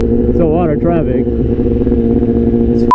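A motorcycle accelerates hard in first gear with traction control and ABS off, its engine giving a loud, close, droning whine through traffic while a voice is briefly heard over it.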